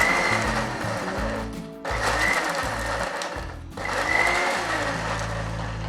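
A kitchen mixer grinder blends cut potato pieces in three loud, close whirring runs of about two seconds each, with brief gaps where the motor drops off between pulses.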